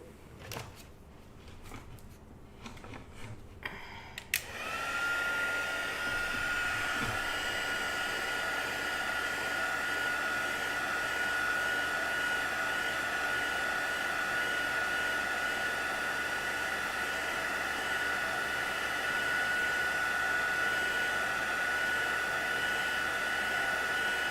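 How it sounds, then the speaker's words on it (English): A heat gun melting embossing powder in a craft session: after a few seconds of quiet handling noises it switches on with a loud, steady blowing whoosh and a faint whine that runs unchanged to the end. "And now I'm just going to turn on my heat gun again."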